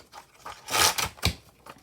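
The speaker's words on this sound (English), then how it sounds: "I think I'm just going to go ahead and rip these out." Pages are torn out of a Daphne's Diary planner in a few sharp, close rips, with the loudest, longest tear in the middle and shorter ones after it.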